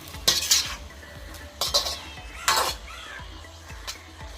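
Pepper chicken pieces being turned in a frying pan: a few sharp metal utensil scrapes and clinks over a low, steady sizzle, close by, with no talking.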